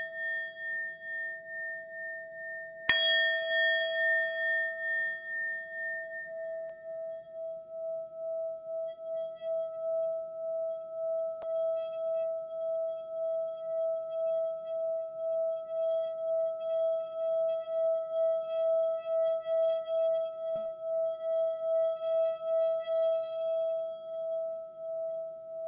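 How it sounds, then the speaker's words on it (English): A mindfulness bell is struck once, sounding a clear, pure tone that lingers and slowly fades across a long stretch of quiet, with faint background hum and no talking. "sharing the mindfulness bell"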